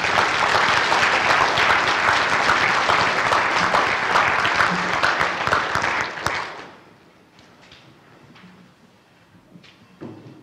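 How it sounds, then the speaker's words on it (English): A ceremony audience applauds students at a signing day event, dense clapping filling the room for about six seconds before fading to a few scattered claps and room noise. "let's give them one more round of applause for all of our students"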